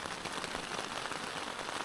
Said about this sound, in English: Right now we start to getting heavy rain, and there is a thunderstorm that is coming closer and closer.